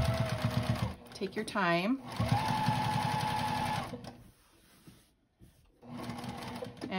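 A sewing machine runs in short bursts while sewing a pillowcase seam, fast rhythmic stitching close by, pausing between runs as a person speaks softly.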